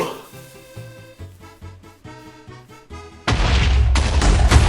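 An explosion set off in the Minecraft video game hits as a sudden loud, dense burst after a stretch of quieter rhythmic game music and thumps, and keeps rumbling steadily to the end.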